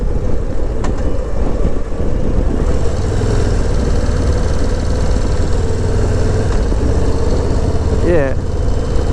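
Low Rider ST motorcycle engine droning steadily while riding on a cold day, a loud continuous low rumble mixed with wind noise throughout, with a brief chirping sound near the end.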